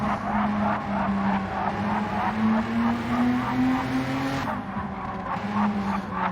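Race cars chasing and overtaking each other on the Grand Valley Highway 1 circuit in a racing game, a steady loud engine drone rising in pitch as the cars accelerate, with tire noise and a brief shift partway through.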